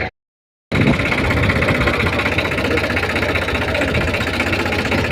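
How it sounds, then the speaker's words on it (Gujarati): A tractor engine runs steadily and loudly up close with a constant low rumbling drone, after a brief moment of silence at the start. "આજે આપણે ટ્રેક્ટર લઈને જઈએ છીએ ગોડાઉને"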